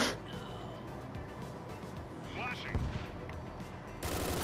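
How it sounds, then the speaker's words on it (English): Shotgun blasts in the video game Door Kickers: Action Squad, a few sharp reports and crackling over a busy game mix, moderately loud and partly masked by background game sounds. "Especially with the shotgun now."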